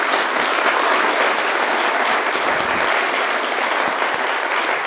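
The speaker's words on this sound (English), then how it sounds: "we all should give Ross a round of applause" Round of applause from a conference audience at a startup and venture talk, steady dense clapping filling the room at an even, loud level without pause.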